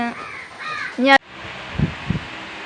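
Crows cawing outdoors in a gathering of birds, several harsh calls close by, a rising squawk near the start, then two shorter caws fainter in the background over a quiet ambience.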